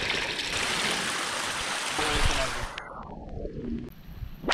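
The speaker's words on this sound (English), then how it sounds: "there's this sweet little spring coming straight out of the mountain here." A small mountain spring runs close by, water flowing out of the mountainside with a loud, steady rush that fades toward the end as the sound thins out.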